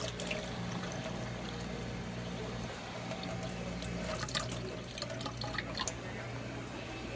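A Frigidaire portable dishwasher on a normal wash cycle fills with water, giving a steady rushing flow with a low hum and occasional splashy drips throughout.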